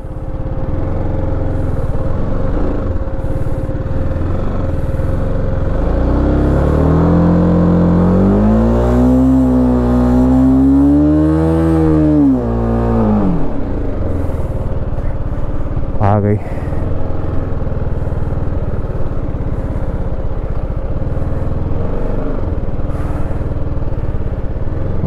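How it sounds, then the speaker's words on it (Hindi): A car struggling up a slope revs hard as its wheels slip, the engine pitch rising and falling in a long surge before settling back to a steady running drone, loud and close, with speech over it. "अरे इधर अब स्लिप मार रहा है।"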